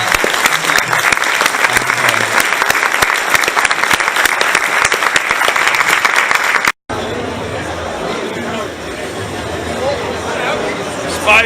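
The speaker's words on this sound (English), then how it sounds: "another round of applause for" Sustained applause from an audience at a live retro-gaming event, dense and loud for about seven seconds, then a cut to quieter room chatter and talking voices.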